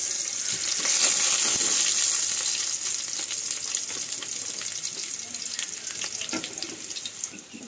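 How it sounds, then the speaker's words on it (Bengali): Black cumin and green chilli frying in oil as tempering for mustard hilsa, a loud, dense, continuous crackling sizzle close up that gradually eases a little. "দিয়ে একটু হালকা ভাজা ভাজা করে নেব"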